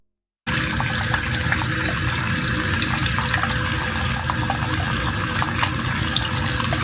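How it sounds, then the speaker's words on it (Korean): Water runs from a hotel bathroom sink faucet at the Aloft Dallas Downtown, a steady, moderately strong stream that starts abruptly and pours continuously, close and alone. "세면대의 수압은 아주 강하진 않지만 쓰는 데는 큰 불편은 없었어요"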